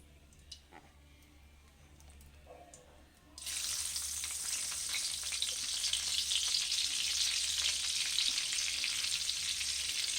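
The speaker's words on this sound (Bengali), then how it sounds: "ওই তেলের মধ্যে বন্ধু আমি এই বাটারটাকে এবার দিয়ে দিচ্ছি অল্প করে" Butter dropped into hot fish-frying oil for a hilsa makhani dish: a quiet start with faint clicks, then a sudden loud, sustained sizzle that stays steady and close to the end.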